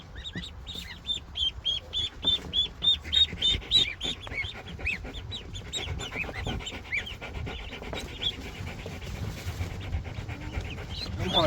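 Ducks and a goose let out onto grass on a small homestead, with rapid repeated quacking and chirping calls over steady rustling and shuffling, a person speaking softly among the birds.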